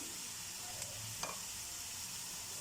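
Potato pieces fry in a little oil while being stirred, giving a faint, steady sizzle with a couple of soft utensil clicks. Quiet and close, with no voices.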